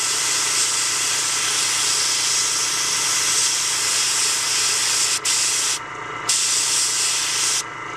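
Spray paint can hissing while painting highlights held an inch or two from the surface: a steady, close, loud hiss with two brief pauses near the end as the nozzle is released and pressed again.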